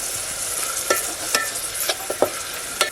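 Salted onion cooks in a pan over a low flame, a soft continuous sizzle broken by several crisp stirring scrapes of a spoon at irregular intervals, close and clear with no talking.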